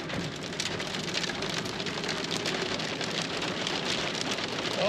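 Hail and rain pelting a car stopped in the road during a cold winter storm, a dense, loud patter of countless crisp ticks and clicks that never lets up.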